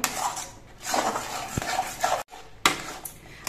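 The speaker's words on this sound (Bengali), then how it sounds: "আর একটুখানি সময় কড়াইয়ের মধ্যে এরকম নাড়াচাড়া করতে হবে" A utensil scrapes and knocks around a kadai pan as thickened milk is stirred over a low gas flame, in several short, quiet strokes with a sharp clack near the middle and a brief silent pause.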